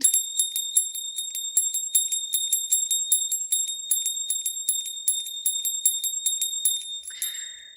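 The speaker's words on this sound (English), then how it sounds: "this little bell sounds tinkly and sweet, kind of like a sleigh bell, but a little higher" Small bell with a high, tinkly tone like a sleigh bell, shaken in quick rapid jingles for about seven seconds before fading out, heard alone and fairly quiet.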